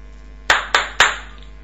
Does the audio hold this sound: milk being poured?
no